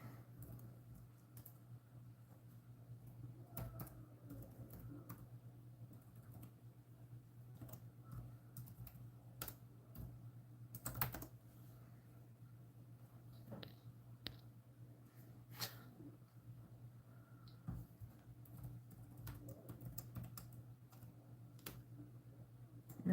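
Keys on a computer keyboard click faintly in short irregular bursts as a password is typed, close and quiet over a steady low room hum.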